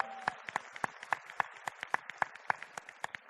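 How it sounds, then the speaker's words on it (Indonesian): Audience applause at an Indonesian company presentation, a modest group clapping in a fairly regular rhythm of sharp individual claps, close and moderately loud, lasting about three seconds. "Beri tepuk tangan meriah untuk hadirin semua."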